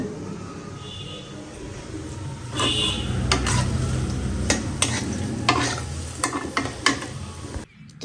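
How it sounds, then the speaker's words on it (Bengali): Onions sizzle and crackle in a pan while a spatula scrapes and taps against it in irregular strokes, close by, before a brief quiet at the end. "পেঁয়াজ ভাজা শেষ"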